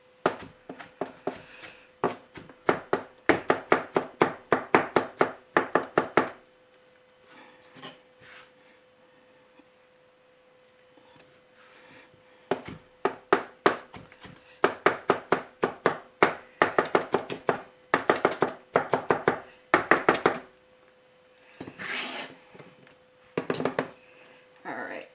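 Sharp, rapid knife chops mincing ingredients for fried rice on a cutting board, coming in several quick bursts of steady rhythmic strikes with short pauses between, close and fairly loud with a faint steady hum underneath.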